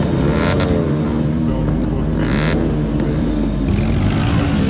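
Superbike engines rev loudly and continuously at a sound check during a Wheels United bike event near Santragachi, with rising throttle bursts over a steady engine drone and crowd noise.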